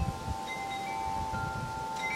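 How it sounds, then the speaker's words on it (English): Outdoor wind blows steadily against the microphone in a low, constant rumble, with faint tonal hums in the background and no voices. "It's a little windy out here,"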